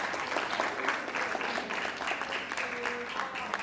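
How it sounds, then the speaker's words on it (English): An audience at a coffee table book launch stands and claps, a steady, fairly faint wash of applause lasting a few seconds with a murmur of voices beneath. "Why are you standing up and clapping?"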